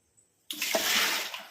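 Starchy soaking water poured off rice into a sink, a sudden loud splashing rush that begins abruptly and continues steadily for about a second.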